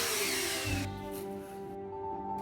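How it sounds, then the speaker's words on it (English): A power drill boring holes during a DIY art room storage makeover, a loud steady whine in the first second that drops off into quieter mechanical hum, with no talking. "I'm literally just going around with a drill, drilling more holes"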